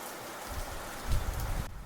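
Rain falling in Parkes, a country town, a steady soft patter with heavier low thuds building after the first second, close and continuous with no voices.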